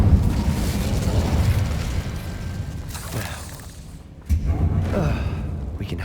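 The Incendio fire spell is cast in Hogwarts Legacy, bursting with whooshing flames and dull thumps over a rumbling game backdrop, with a second loud burst after a brief lull.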